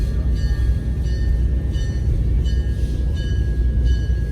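A passenger train on a Chattanooga, Tennessee ride rolls along the rails with a loud, steady rumble, while faint high wheel squeals ring out at intervals.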